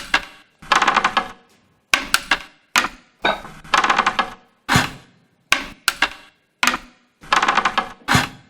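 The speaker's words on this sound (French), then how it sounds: "c'est le même bruit de bois qui a été enregistré à l'autre bout du monde" Sampled wooden knocking sounds recorded far away are played from a keyboard like an instrument. Sharp, dry hits fall in uneven clusters with short gaps between them, loud and close, with no voices.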